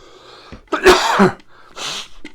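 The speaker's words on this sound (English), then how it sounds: "Sorry, I've got a bit of a cough." A couple of harsh, throaty coughs from a man with a cold burst out close by, separated by a short pause, with a faint breathy sound in between.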